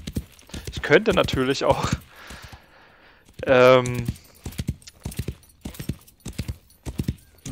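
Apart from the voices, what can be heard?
horse hooves galloping in video game Wild West Online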